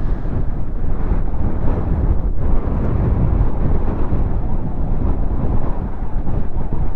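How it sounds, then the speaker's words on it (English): Strong, steady wind buffeting the microphone at a volcanic crater near Ushuaia, a loud continuous roar with no voices. "It's windy cold here."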